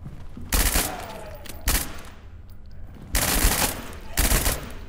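A gun fires in the video game SCP 5K, several loud bursts of rapid shots separated by brief pauses, close and punchy.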